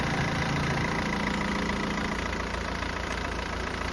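A used car's engine idles steadily up close, a constant low rumble with a faint ticking rhythm and no voices.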